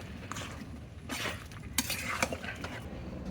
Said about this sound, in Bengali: এবার পেঁয়াজগুলো দিয়ে কিছুক্ষণ নাড়াচাড়া করে ঢেকে রেখে দেবো